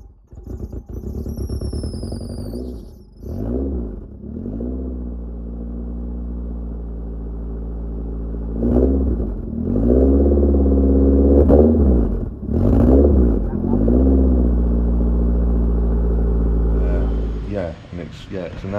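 A Nissan SR20 engine in a garage idles with a deep rumble and is revved repeatedly in rising and falling bursts, with a thin high whine near the start and a voice heard briefly.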